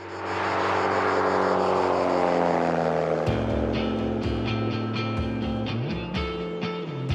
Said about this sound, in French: Cet avion se dirige vers le sud-est du territoire